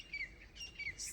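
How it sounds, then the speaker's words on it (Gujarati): Small birds chirp in short, high tweets a few times over a quiet background, faint and somewhat distant. "પંખીનો કલરવ"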